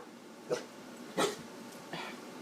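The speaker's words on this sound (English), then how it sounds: "Ignore my dog back there. He's being stupid." A dog barks indoors in the background, three short, separated barks of varying strength, the middle one loudest, over otherwise quiet room tone.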